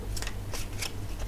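Playing cards shuffled by hand for a tabletop board game, a few quick crisp riffling bursts close up with short pauses between.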